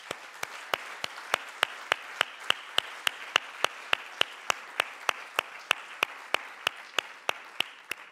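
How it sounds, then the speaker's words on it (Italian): An audience at a Milanesiana literary and arts event claps in steady unison for Franco Battiato, about three sharp, evenly spaced beats per second, with no talking. "vi chiedo un applauso"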